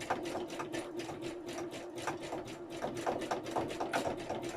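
A domestic sewing machine zigzag stitches with fast, even mechanical clatter, rapid needle strokes ticking in a steady rhythm, close and fairly quiet, without talk.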